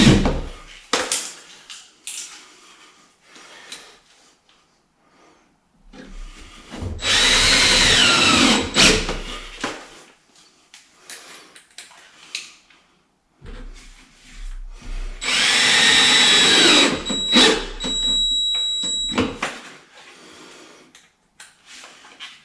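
A power drill drives a screw into a piece of plywood during apartment renovation work, two long whirring bursts of several seconds each with brief taps and handling noises between them, close and fairly loud, no voices.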